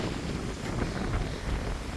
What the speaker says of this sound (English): It's really windy right now, holy cow.